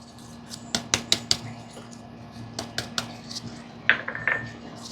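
Salt, smoked paprika, ground mustard and onion powder are stirred into a sausage sauce, giving a run of sharp, close metal clinks and taps of a utensil against a pan, in short bursts with gaps and no talking.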